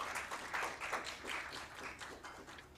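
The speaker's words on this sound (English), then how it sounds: "Let's have a round of applause for Parul and Preeti, please." An audience at a panel discussion on social protection and platform-economy welfare breaks into brief, moderately distant applause, a dense patter of clapping hands lasting a few seconds.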